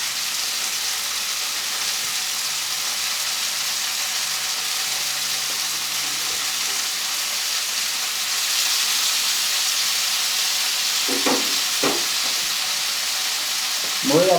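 Pork chops and potatoes sizzle steadily in a hot pan as they sear and brown, a continuous loud frying hiss that swells slightly midway, with a few faint clinks near the end.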